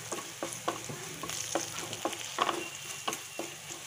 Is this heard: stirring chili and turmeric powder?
yes